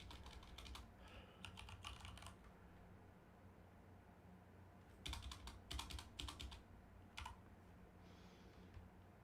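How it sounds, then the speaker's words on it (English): Bursts of fast typing on a computer keyboard, close and fairly quiet, with clustered key clicks separated by short pauses and a few single taps. "Let me type it in."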